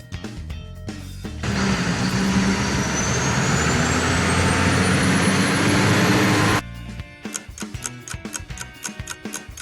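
A truck engine runs steadily and fairly loud for about five seconds, a broad rumbling drone standing out between sharp ticking sounds before and after it.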